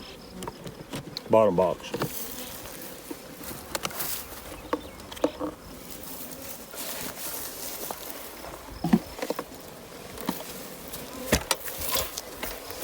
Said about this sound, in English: There's lots of bees down here.